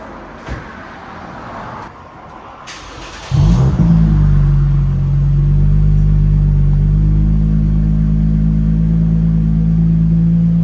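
Near a few seconds of quiet, a Lexus IS 350 with a 3.5L V6 and aftermarket exhaust starts and settles into a steady, loud, low rumbling idle right by the tailpipes.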